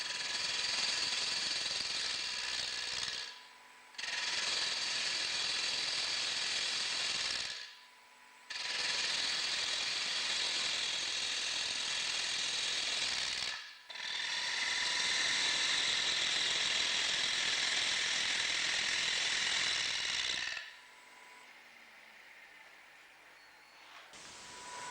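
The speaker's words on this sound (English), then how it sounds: "Then, turn the back or base of the bowl to the required shape." A wood lathe turns the back and base of a three-sided bowl, giving loud, steady cutting noise in four long bursts separated by short pauses, then a quiet hum at the end.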